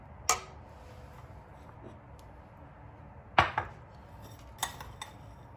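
A ladle clinks against a pot and a container while magnolia pudding is spooned in, heard as a few sharp, separate knocks amid soft handling noise.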